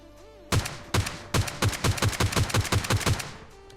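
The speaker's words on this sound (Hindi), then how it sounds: "वहां से गोलियां चल रही थी" Gunfire in PUBG Lite: short bursts of sharp, loud shots in an uneven rhythm, first a few spaced single shots, then a rapid string of about a dozen quick reports, with no talk over them.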